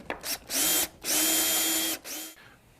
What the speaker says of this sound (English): I'll use the power drill to tighten everything up